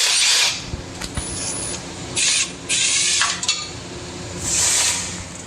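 Oil pan bolts coming off a Jeep 2.5 engine, a close wrench rasping in several short hissing bursts with light metallic clinks between them.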